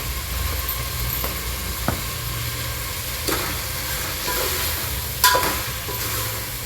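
Vegetable pulao sizzles steadily in a pot as homemade garam masala is stirred in, a continuous close frying hiss with a few scraping knocks of the spoon.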